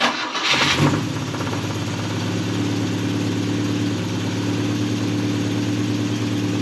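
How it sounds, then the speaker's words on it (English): A 50-year-old Volvo 164E engine, revived after sitting 20 years, idles with a low, steady rumble after a brief burst at the start, running continuously and close by. "Definitely sounds like it's idling a little smoother there."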